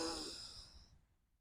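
Single soft exhale during a seated yoga stretch, a breathy sigh that fades out over about a second, quiet and close.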